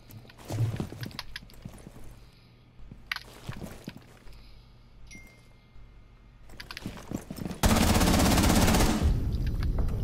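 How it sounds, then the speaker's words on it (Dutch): In a video game, an F2 rifle fires through a wall in sharp, scattered shots and short bursts, ending in a sudden loud, dense blast of gunfire. "knalde ik mee de lading van mijn F2 door de muur"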